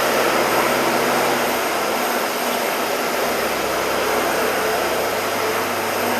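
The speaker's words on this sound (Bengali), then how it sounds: "মেশিন চলছে, সিএনসি মেশিন।" CNC machine machining parts in a workshop, a loud, steady broadband whir and hiss with a constant hum beneath, running unbroken throughout with no speech.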